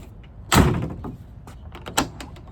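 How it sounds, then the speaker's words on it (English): A Mercedes 250GD G-Wagon door shuts with one solid, close thunk, followed a moment later by a sharper latch click. The cabin is otherwise quiet and nobody speaks. "Door, the signature G-Wagon door sound."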